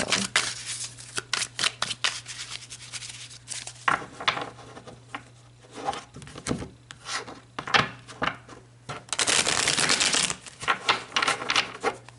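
Tarot cards are shuffled and riffled close by, giving repeated papery flutters and rubbing swishes in uneven bursts, with one longer riffle near the end and no speech.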